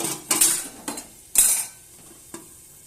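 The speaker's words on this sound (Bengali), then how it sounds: "এবার আমি ঢেকে দেব।" A metal lid is handled over a pot of pasta on the stove, with a few sharp clinks and rattles separated by pauses against a light sizzle, and no talking.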